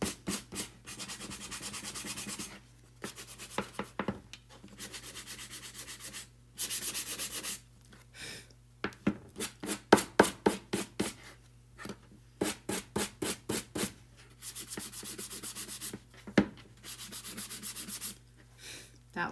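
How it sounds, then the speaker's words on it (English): Someone hand-sands the edges of a wooden star to distress it, making close, steady back-and-forth rasping strokes in repeated bursts separated by short pauses. "I'm just trying to sand the edges to make it distressed."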